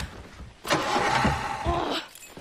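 A car engine in Far Cry 3 cranks and sputters without catching, a loud churning burst of roughly a second and a half standing alone.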